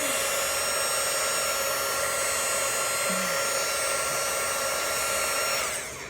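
A handheld embossing heat tool blows hot air over a fabric tumbler cup coating, producing a steady close whirring hiss that holds evenly and then fades as the tool is pulled away at the end.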